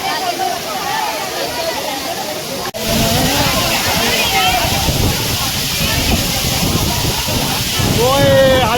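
Bhivpuri waterfall roars as a steady, loud wash of falling water, broad and continuous, with people talking over it and a brief sharp knock partway through.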